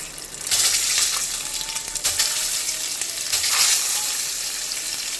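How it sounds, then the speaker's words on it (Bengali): Slit duck eggs fry in hot oil in a kadai, giving a loud, continuous crackling sizzle with rising and falling spurts throughout and no talking. "তেলটা গরম হয়ে গেছে আমি ডিমগুলো এবারে ভাজা করে নিচ্ছি"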